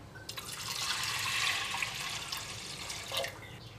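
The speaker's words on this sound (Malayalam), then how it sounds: "ഇതിലേക്ക് നമുക്ക് വെള്ളം ഒഴിക്കാം" Water pours steadily into a pot of washed lentils for a few seconds, splashing and gurgling close by, then trails off with a few drips.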